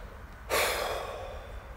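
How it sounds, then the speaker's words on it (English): A deep belly breath drawn in slowly, beginning abruptly after a moment of quiet and holding as a soft, steady rush of air close to the microphone. "Deep, deep, big inhale from the belly."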